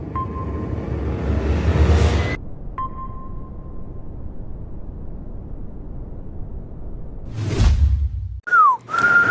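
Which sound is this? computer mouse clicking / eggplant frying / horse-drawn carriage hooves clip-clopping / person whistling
person whistling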